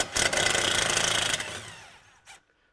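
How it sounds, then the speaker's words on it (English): Ratcheting or power tool loosening the parking brake cable bracket bolt on a 2010 Ford Explorer Sport Trac during a hub and bearing job, a steady buzzing burst of about a second and a half, then a short tail and a brief final click. "remove this bolt holding this parking brake cable bracket"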